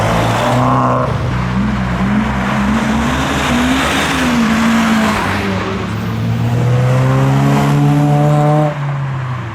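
A Toyota Chaser tuner car arrives at an evening car meet, its engine loud and near, climbing through several revving gear pulls with a throaty exhaust before easing off at the end.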